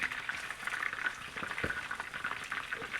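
Chicken wings fry in hot oil for crispy Chinese takeout-style wings, giving a steady, close bubbling sizzle with a continuous crackling texture throughout.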